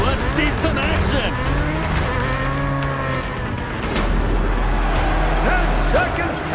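Race cars in the Destruction AllStars video game roar and whine through a busy arena with revving engine tones, tire squeals and impacts, loud and continuous, while a voice talks over the action.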